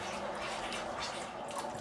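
Water rushes through a valve and pipe into a hot water heater tank, a steady broadband hiss and gurgle of flow filling a short moment, close and continuous.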